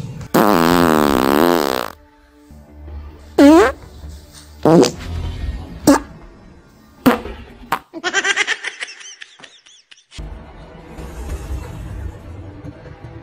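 A cartoon fart from an ankylosaurus in the animated series Jurassic World Camp Cretaceous: a loud, long, wavering blast at the start, then several shorter squeaky puffs and a rapid sputtering run, with gaps of quiet and light laughter-like sounds between.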